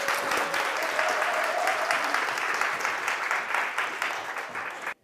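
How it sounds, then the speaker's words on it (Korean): Sustained applause from a concert audience at a parenting talk event in Daegu, a dense, even wash of many hands clapping that carries steadily for several seconds before cutting off abruptly. "박수 부탁드립니다"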